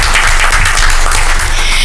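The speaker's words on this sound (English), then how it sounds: "we're going to give her a round of applause for the great work that she does" A steady round of applause from a community forum audience honoring an absent council member, dense continuous clapping at even loudness throughout.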